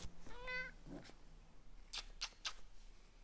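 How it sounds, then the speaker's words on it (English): A cat in a room where someone is knitting gives a clear drawn-out meow, then a short second call, followed by a few soft clicks and rustles nearby. "Sorry, do you see the cat?"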